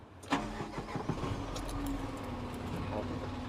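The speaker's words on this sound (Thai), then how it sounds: "สตาร์ทเครื่องยนต์ครับ" A car engine cranks briefly and catches, then settles into a steady idle, close by with no talking.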